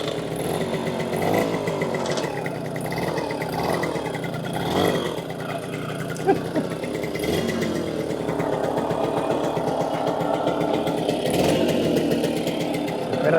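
A Casal K197 moped engine idles steadily with a buzzing, rattling drone, close and continuous throughout.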